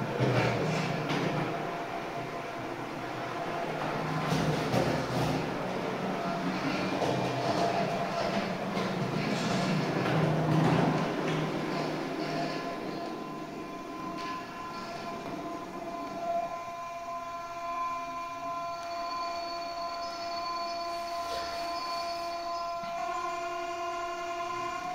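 A Roco model locomotive sound module plays another locomotive's sounds through a tiny built-in speaker: chugging engine rumble, then sustained horn-like tones ringing out over a fading mechanical hum.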